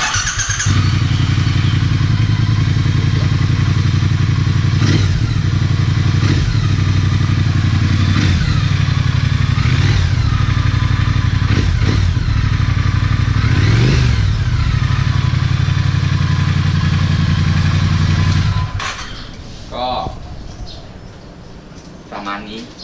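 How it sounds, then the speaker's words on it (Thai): A Triumph motorcycle with an aftermarket exhaust tip and its catalytic converter retained idles loudly and is blipped repeatedly, each rev rising sharply before dropping back, then it cuts off near the end. "เดี๋ยวให้ฟังเสียงเข้ากันพี่แว่นไม่ได้เอาแคทออกนะ"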